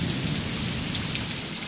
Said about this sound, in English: the thunder and lightning is pretty thick